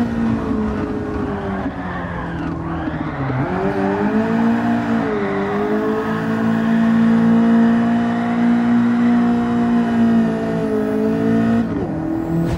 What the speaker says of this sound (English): go back down on the gas at the proper moment to continue the drift as usual